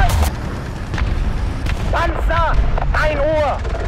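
A tank cannon fires in the War Thunder video game, giving booming shots and impacts under a steady engine rumble while German crew voice lines call out over the action.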